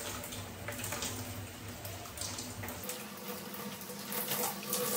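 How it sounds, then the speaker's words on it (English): Shower water runs steadily, splashing and hissing as it rinses a hair mask out of long curly hair, with the spray's sound shifting partway through as the flow is moved or blocked. "I'm about to wash the mask off my hair"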